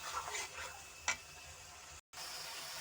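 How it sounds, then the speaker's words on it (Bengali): Tomatoes are sautéed with fried onions and chillies in a pan for an egg dish. A soft, steady sizzle carries on with a faint stirring scrape and a brief gap near the end. "এখন টমেটো সহ একটু কষিয়ে নিব।"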